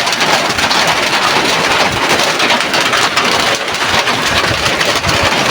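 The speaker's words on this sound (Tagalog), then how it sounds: "Malakas ang ulan." Heavy rain pours down steadily, giving a loud, dense, continuous hiss with no break, and no one speaks.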